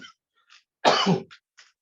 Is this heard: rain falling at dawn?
no